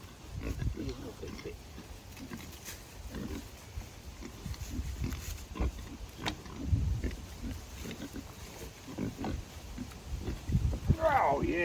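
Pigs on a farm grunt and snuffle at close range in short irregular bursts, with clanking and shuffling noise and people talking nearby.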